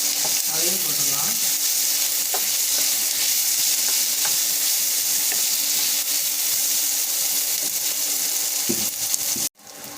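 Finely chopped tomato sizzles in a pan of rava kitchadi base, a loud, continuous frying crackle with occasional stirring scrapes and a sharp clink near the end.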